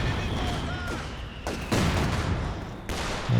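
Mortar shells fire in a Company of Heroes 2 match as a dense crackle of distant gunfire, punctuated by a few heavier thumps over a constant battle rumble.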